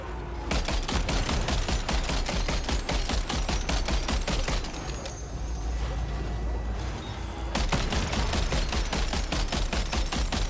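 Sustained automatic gunfire in Death Stranding 2, loud rapid shots rattling almost continuously, with a brief thinner lull midway before the heavy firing resumes.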